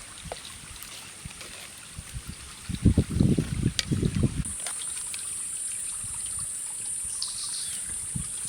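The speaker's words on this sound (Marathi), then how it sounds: "पिठलामध्ये आता आपण पाणी अजून टाकूया" Water is poured into pithla, a gram-flour curry, cooking outdoors. A short, burbling splash rises mid-way and fades after about a second and a half, over a faint steady insect-like hiss.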